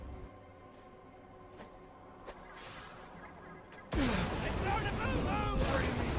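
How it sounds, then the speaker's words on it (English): Grenade explosions in Borderlands: The Pre-Sequel, a heavy blast that erupts abruptly into a sustained loud roar of crackling debris and chaotic game effects, preceded by quieter ambience with someone talking. "let's throw some grenades at them"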